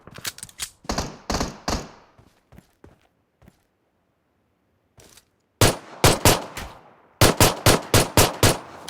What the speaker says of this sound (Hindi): फिर एक गन साउंड आता है तो देखते हैं कहाँ पे है ये बंदा।